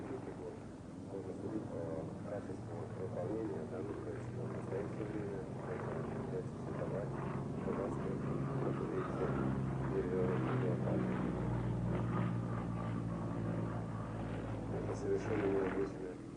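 A Yakovlev Yak-55 aerobatic propeller plane flies in a steady, droning engine hum that stays fairly constant and moderately distant, mixed with wind noise.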